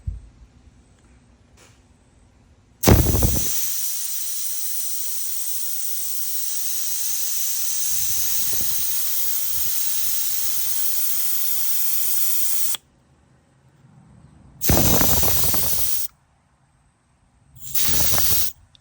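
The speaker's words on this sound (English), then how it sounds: "I just put the can upside down because you wanna press this valve, this Schrader valve, to release the AC fan out" Refrigerant gas from a Nissan Rogue AC system hisses loudly out of a pressed Schrader valve in one long sustained burst, then two shorter bursts follow after brief pauses.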